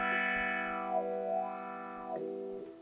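Electric guitar played through a Boss GT-1000 guitar processor with wah effect, a sustained distorted chord whose tone sweeps and shifts as the wah moves, loud and alone.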